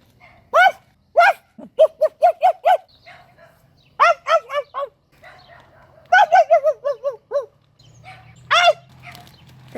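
A dog barks in close, loud bursts, mostly quick runs of sharp yaps with short pauses, alone over quiet farmyard surroundings.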